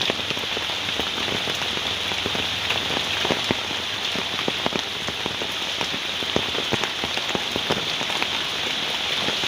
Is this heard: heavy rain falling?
yes